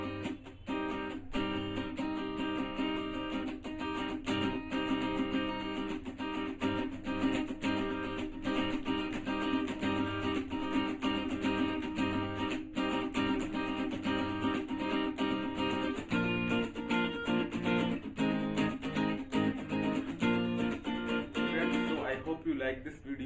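A song's strumming pattern on acoustic guitar at full song tempo, dense rapid chord strokes driving on continuously for over twenty seconds, close and steady with no talking.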